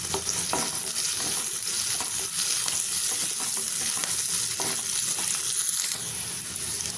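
Large onion and curry leaves sautéing in oil in a pan for Tamil fish kulambu, a dense, even sizzle with faint stirring scrapes throughout, near and unbroken, no talking.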